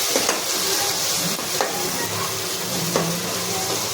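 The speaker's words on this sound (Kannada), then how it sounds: "ಸ್ವಲ್ಪ 1-2 ಸ್ಪೂನ್ ಅಷ್ಟು ವಾಟರ್ ಹಾಕಿ ಚೆನ್ನಾಗಿ ಈ ಥರ ಮಿಕ್ಸ್ ಮಾಡ್ತಾನೆ ಇದೆ" A spoon stirring a sizzling tomato mixture with a spoonful or two of water and salt in a pan for shavige upma, steady frying hiss with occasional scraping strokes of the spoon, close up.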